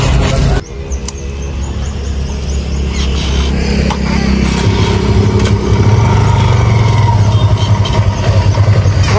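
Motorcycle engine starting up and idling nearby, a steady low putter that rises into a rhythmic revving chug partway through, loud and close with no voices.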